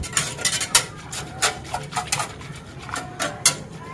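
A custard mixture of milk and eggs for homemade ice cream is stirred steadily in a pot, with irregular light scraping and clinks of the utensil against the metal, close and moderately loud, with no voices.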